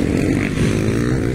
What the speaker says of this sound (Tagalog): Wow, bago kayong motor ni Stanley oh